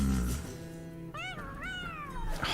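The Alley Cat card in the Hearthstone video game gives a single drawn-out, rising-and-falling meow, clear and close, following a brief low rumble of game sound.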